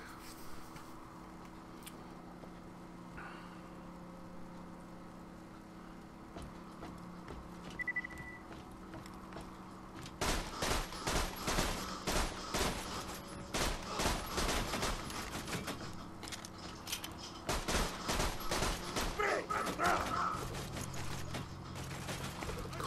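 Heavy gunfire in Borderlands 2 starting after a quiet stretch: rapid, close bursts of shots with mechanical clatter, continuing in dense volleys to the end.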